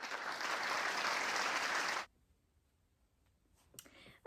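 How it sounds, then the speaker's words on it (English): A round of applause plays for about two seconds as a full, even burst of clapping, then stops abruptly. A few faint clicks follow in near silence. "Let's give a round of applause for Roman Kit, everybody."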